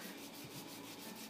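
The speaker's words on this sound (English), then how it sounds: "going from 100 grit sandpaper and then moving to 120 and going through and sanding all this" A knife handle is sanded by hand with sandpaper, giving a quick series of faint rhythmic rasping strokes, close up with no talking.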